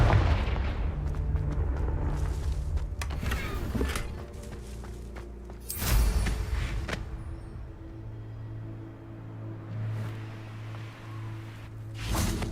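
Confringo spell blasts in a video game, several separate booming explosions spaced a few seconds apart, each a sharp burst that fades into a low rumble and quieter game ambience.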